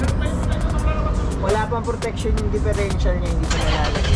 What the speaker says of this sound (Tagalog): Kaya papakinggan natin yung tunog ng Borla exhaust.